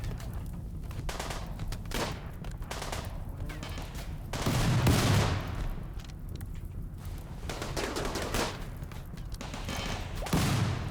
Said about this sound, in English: Turrets put in work.